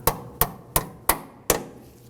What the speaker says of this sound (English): Use your hammer.